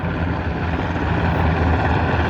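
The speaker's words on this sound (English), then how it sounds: "Let this helicopter go by." A steady, loud mechanical drone of military helicopters passing overhead, rotor thrum constant throughout with no voices.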